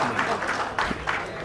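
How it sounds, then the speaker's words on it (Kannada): A seated audience at a cable TV operators' association ceremony in Kalyana Karnataka briefly claps together for the honorees. The applause is short and moderately loud, with a voice faintly underneath. "ಎಲ್ಲಾ ಸನ್ಮಾನಿತರಿಗೆ ಒಂದೇ ಬಾರಿ ಚಪ್ಪಾಳೆ ಮುಖೇನವಾಗಿ ಅವರಿಗೆ"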